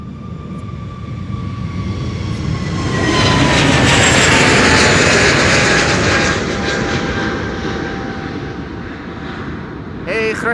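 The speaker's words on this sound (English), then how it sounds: "Can also hear something passing overhead. Don't see the control yet, but this is an A321neo." Airbus A321neo jet climbing out from Schiphol's Polderbaan runway, its engine roar swelling as it passes overhead and then fading, with a whining tone sliding downward.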